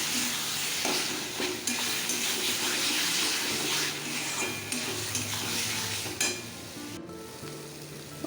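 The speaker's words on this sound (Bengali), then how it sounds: "নুন দিয়ে দেব, হলুদ দিয়ে দেব, একটু নুন দিয়ে দিচ্ছি, দিয়ে আবার কষতে কষতে ভালো করে কষে নেব।" Food being stirred and sautéed in hot oil with salt and turmeric, filling the clip with steady, close sizzling and frying along with the scrape and clatter of a spoon in the pan and no talking.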